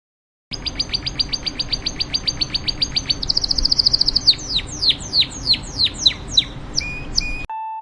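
A canary sings a long run of fast, evenly spaced high chirps that shift into sweeping trills and rising whistles, bright and close with no voices, finishing on a brief steady tone, as a children's animal-guessing game sound.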